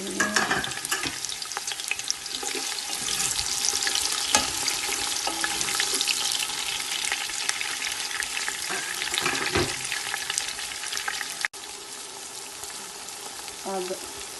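Onions fry in hot oil for a turnip curry, making a loud, dense, steady sizzle close up, dotted with occasional utensil knocks and stirring scrapes, and dipping briefly near the end.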